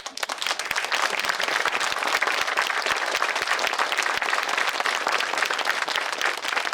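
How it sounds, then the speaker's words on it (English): A crowd at a groundbreaking ceremony for the Appalachian Outlaw Trails applauds continuously, a fairly loud, even wash of many hands clapping with a few sharper individual claps standing out near the front. "y'all stand and give a round of applause"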